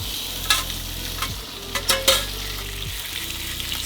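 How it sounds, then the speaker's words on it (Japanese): Shrimp meat stir-frying over high heat in a frying pan for a creamy shrimp pasta, a close steady sizzle broken by a few sharp utensil scrapes and clacks, no voices. "片側でフライパンでエビの身の方を炒めていきます"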